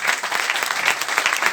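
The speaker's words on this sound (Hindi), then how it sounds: "ताली बजा दीजिए।" A seated audience at a sales presentation claps briefly on cue, a short burst of brisk, dense applause from a crowd in a hall.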